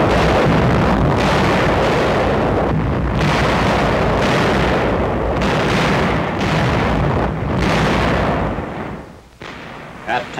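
Heavy artillery barrage from 1,400 guns opening a February 1945 offensive east of Nijmegen, a dense continuous roll of loud booms and blasts with repeated surges.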